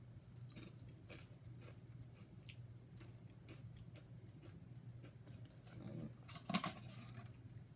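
Paprika-flavored Pringles chips crunch between the teeth in quiet, close, repeated bites, with a louder crisp crunch near the end and a low steady hum underneath.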